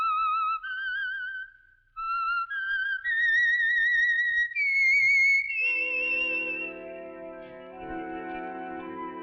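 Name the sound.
whistled theme of The Whistler radio show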